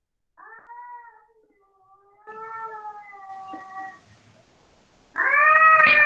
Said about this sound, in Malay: Alamak, ada dengar bunyi kucing ke?